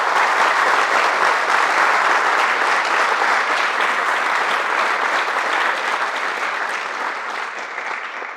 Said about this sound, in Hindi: तो पहले तो एक बार तालियां होनी चाहिए सर के लिए।